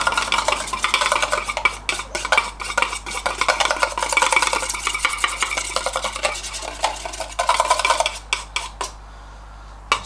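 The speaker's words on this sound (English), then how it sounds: "So I'll just give this a little mix up for a few minutes." Brush paint thinned with hardener stirred in a tin, a continuous close scraping and rattling with quick rhythmic strokes for several seconds before stopping and leaving a quiet hum.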